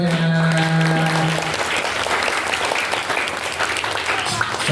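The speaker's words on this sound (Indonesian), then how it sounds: "Tepuk tangan kita semuanya" Crowd at a school Isra' Mi'raj commemoration at an elementary school breaks into loud, sustained clapping, starting under a fading held tone and continuing evenly throughout.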